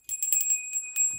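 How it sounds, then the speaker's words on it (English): A small altar bell rung by hand, several quick bright tinkling strikes close up in a quiet room, each with a short ringing tail. "This must be like an altar bell."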